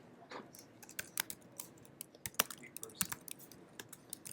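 Computer keyboard typing out Go code, with irregular bursts of crisp key clicks and occasional sharper keystrokes, fairly close and moderately quiet, with no talking over it.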